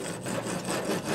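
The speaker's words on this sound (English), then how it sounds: "Chipping hammer." Rapid scraping and knocking of a chipping hammer knocking slag off a flux-cored weld, a steady gritty metal-on-metal chipping texture that carries on without pause.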